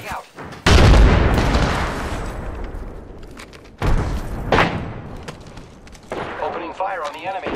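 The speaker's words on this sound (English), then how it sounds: "Look out, grenade. Frag out." A frag grenade goes off in a first-person shooter game: a heavy close boom followed by a long rumbling decay, a second blast a few seconds later, and then gunfire crackling under voiced game chatter.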